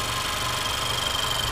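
A 2.4-liter Honda Accord engine idles steadily close by, a constant low rumble with a faint high whine running through it.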